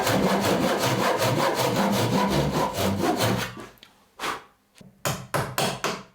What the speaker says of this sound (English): I can use a Japanese pull saw to cut down on those lines I've marked